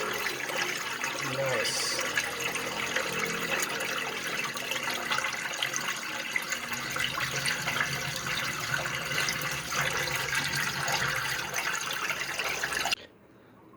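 Washing machine water drains through a 3D-printed drain adapter in a steady, close rushing flow that holds for about thirteen seconds before cutting off abruptly, with a brief spoken word heard over it.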